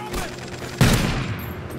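A burst of gunfire from a new DLC weapon in a first-person shooter game, a sharp loud shot near the middle followed by a short decaying tail over low background game noise.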